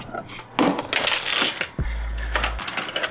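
Coins pour and clatter out of an opened Sport Zone arcade machine, a loud burst of metallic jingling with a low electronic hum from the machine in between.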